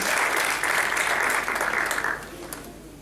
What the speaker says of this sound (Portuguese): Aplaudam o Senhor Jesus